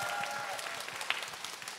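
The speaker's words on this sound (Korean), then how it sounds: "여러분 다시 한번 박수 부탁드리겠습니다" Audience at a 1939 talk concert clapping in a dense, steady round of applause that holds for under two seconds, heard from within a room with no one talking over it.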